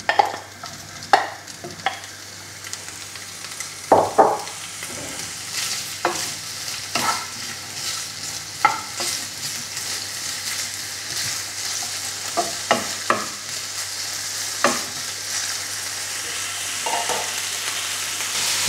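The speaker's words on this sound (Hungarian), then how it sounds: "A felhevített olajon pedig a szalonnánkat pirítsuk le." Bacon strips fry in heated oil for carbonara, a steady crackling sizzle with scattered sharp pops and spits throughout, close and moderately loud with no voices.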